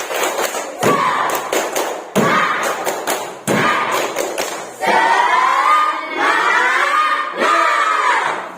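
A classroom of Indonesian schoolchildren does a rhythmic spirit clap with the teacher. Loud, close bursts of unison claps and thumps alternate with group chanting in a repeating patterned beat.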